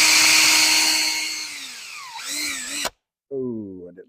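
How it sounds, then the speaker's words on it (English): A power drill bores through knife handle scales clamped in place, whining loudly up close and slowing as it bites, then cutting out abruptly before a brief restart. "Now I'm going to drill through my scales and handles"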